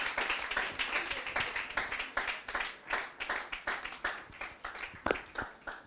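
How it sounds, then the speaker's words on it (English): An audience applauds in an indoor hall in Germany as a speaker is introduced, a steady stream of moderately loud claps continuing for several seconds without voices. "Let's keep giving more sounding round of applause until he gets here."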